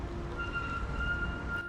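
A thin, high-pitched metallic screech of tram wheels in Belgrade, Serbia rings steadily over a low rumble of moving rail vehicles, sustained for a couple of seconds.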